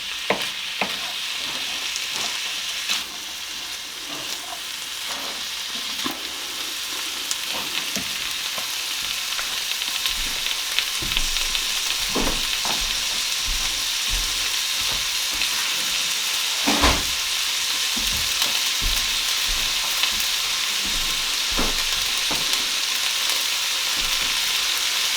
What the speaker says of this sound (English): it's just very gently starting to cook. So just moving it around the pan a bit.